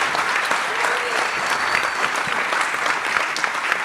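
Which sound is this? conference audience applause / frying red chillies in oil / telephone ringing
conference audience applause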